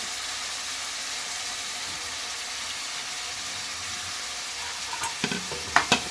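Pumpkin curry cooking in a pan, a steady soft sizzle running throughout with a few louder scraping stirs near the end.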